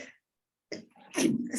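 A single short sneeze, a quick sharp burst after a brief silence, close and fairly loud.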